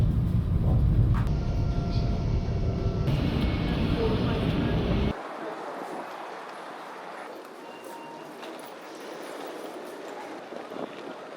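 Train at Rotterdam station, a loud rumbling roar for the first half that cuts off abruptly, leaving quieter station ambience with faint scattered sounds.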